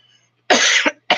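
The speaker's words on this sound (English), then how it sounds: "this coughing is giving me a headache" Two loud, close coughs, a long harsh hacking burst followed by a second shorter one after a brief pause, starting out of near silence.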